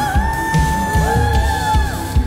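Worship congregation at a Sunday church service shouting and whooping together over sustained keyboard chords and a pulsing beat, loud and energetic throughout.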